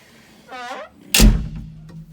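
A door on a vehicle brought in for air conditioning repair swings shut with a single loud, heavy thunk, followed by a short rattling ring-out. A brief faint scrape or squeak comes just before it, and no one speaks.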